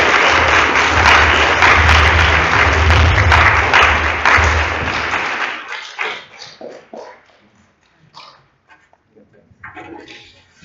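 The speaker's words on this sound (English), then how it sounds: "Let's go give Michelle another big round of applause." A group of scouts applauds a speaker after a talk on drinking and driving, a loud dense burst of clapping that cuts off after about five seconds, leaving scattered quiet noises.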